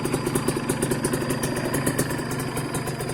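A used Kawasaki Ninja two-stroke motorcycle idles close by, its engine holding a steady, fast-pulsing rattle with a slightly uneven, clattery edge throughout.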